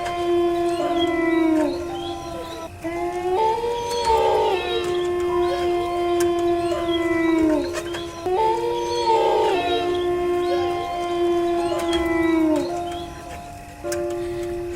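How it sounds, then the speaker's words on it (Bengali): Jackals howling at night on a lonely rural road, several long wavering howls rising and falling in repeated overlapping calls, fairly loud and continuous without speech. "পোকার ডাক আর 2-1টা শিয়ালের ডাকের শব্দ শোনা যাচ্ছে।"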